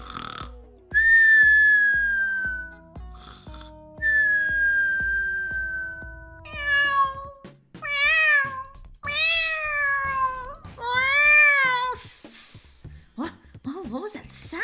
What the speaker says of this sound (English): It sounded like a cat.